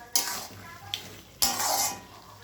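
Chicken with black pepper powder stirred in a pan: two bursts of scraping and sizzling, close and fairly loud, with a short clink between them and no talk.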